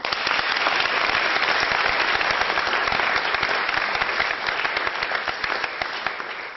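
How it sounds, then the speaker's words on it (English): Sustained audience applause at a business talk, a dense, steady wash of many hands clapping at full strength that eases slightly toward the end. "Please give him a warm round of applause"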